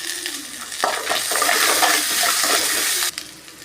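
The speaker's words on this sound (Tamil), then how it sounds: "நல்லா வதக்கிட்டு இஞ்சி பூண்டு பேஸ்ட் கொஞ்சம் போட்டுக்கலாம்" Onions sautéing in a pan for egg semiya, a steady broadband sizzle with stirring scrapes that swells for about two seconds and then cuts off abruptly near the end, close and alone with no talk.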